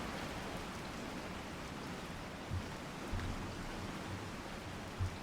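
Rain in the video game Resident Evil 4, a steady dense hiss of rainfall pattering on surfaces, continuous and even with a few soft low thuds, no voices.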